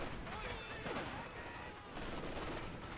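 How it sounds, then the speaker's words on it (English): Conscript infantry rifle fire in a Company of Heroes 2 4v4 match on Port of Hamburg, a continuous dense wash of battle noise with scattered shots, mixed under a busy soundscape and possible talk. "Conscripts are firing."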